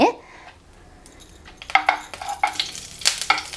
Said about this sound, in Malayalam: ഇനി നമുക്ക് ഇതിലേക്ക് ഒരു ടീസ്പൂൺ നെയ്യ് ഒഴിച്ചു കൊടുക്കാം